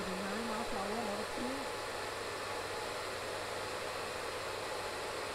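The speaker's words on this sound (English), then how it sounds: "This saloon type hair dryer, it can go up to what, 36 miles per hour" A salon-type hair dryer blows with a steady, loud whooshing roar throughout, with a faint voice-like warble briefly at the start.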